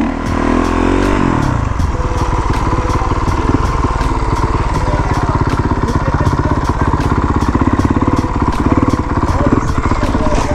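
A motorcycle engine on a street in Chicago's East Side, with a brief rev at the start and then a loud, steady rapid-firing run as the rider pulls a wheelie, close by throughout.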